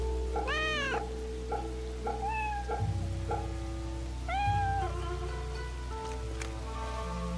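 Cat meowing in the Fate/Samurai video game, several rising, drawn-out meows close by over a soft, steady ambience like light rain and flowing water.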